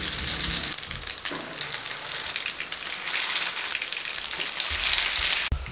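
Bread sausage rolls shallow frying in oil in a pan, giving a steady close sizzle and crackle with small shifts as pieces move and a brief clatter near the end, without voices.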